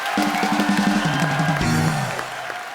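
Studio audience clapping and cheering for Imran and Shreya on the Kapil Sharma Show, a loud continuous roar with music or tones running through it.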